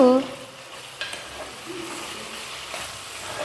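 Chopped tomatoes for mutton kheema sizzle and fry steadily in a hot pan, a continuous close crackle with a few faint stirring scrapes and no talking.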